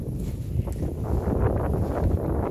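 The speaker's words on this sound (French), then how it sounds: "Ah, le vent il monte là." Steady low wind at a lake buffeting the microphone, a constant roaring rush with slight gusty swells throughout, no voices.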